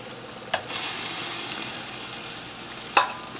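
Flank steak, peppers and onions sizzle on a grill with a steady, close, hissing crackle, broken by two sharp clicks near the start and end.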